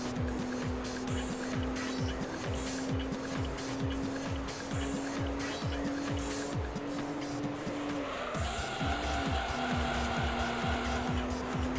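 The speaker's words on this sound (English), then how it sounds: "the RSC sounds so nice. It's one of my favorite sounding cars in the game." Racing engine of the RSC in Gran Turismo 3 roars steadily at high revs with rapid gear-shift dips, then climbs in pitch after a shift, with tire squeal layered over it, loud and continuous throughout.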